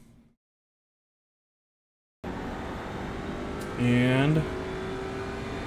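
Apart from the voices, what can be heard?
Audi RS3 TCR race car accelerating in iRacing video game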